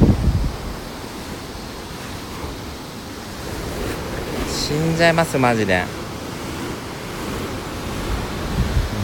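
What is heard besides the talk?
rough ocean waves of the Sea of Japan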